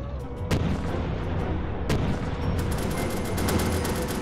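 A tank fires its cannon in the VR game Disassembly VR. There are two sharp, heavy booms about a second and a half apart, over constant loud mechanical rumble and clatter.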